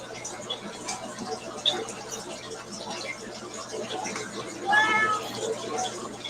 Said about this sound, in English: That is the sound of a cat wanting love.